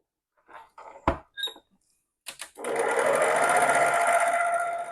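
A stand mixer beats Biscoff cookie cream cheese pound cake batter in a bowl, starting after a few clinks and taps and then running as a steady, loud, continuous whir until the end.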